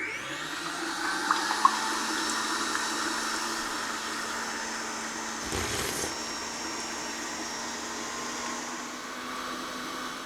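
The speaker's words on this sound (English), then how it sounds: "we're going to mix the egg whites until they're nice and stiff" A Kenwood XL stand mixer whisks egg whites in a steady, even high whir that holds throughout, with a brief louder swish near the middle.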